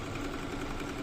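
A Singer automatic swing sewing machine runs with a steady, close mechanical whirring hum over a short stretch.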